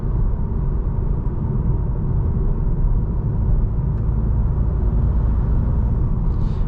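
Steady, loud low rumble of a 2021 VW Golf GTI SE DSG's engine heard from inside the cabin as it pulls along a road in comfort mode, a constant droning hum with no talking.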